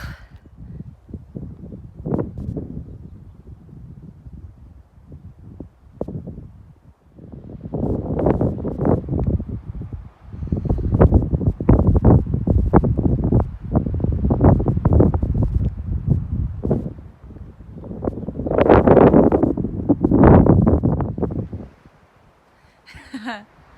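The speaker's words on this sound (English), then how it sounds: "it's also pretty windy" Strong wind on San Jacinto Peak roars and buffets the microphone in loud, uneven gusts, swelling and easing for most of the stretch before dropping away near the end.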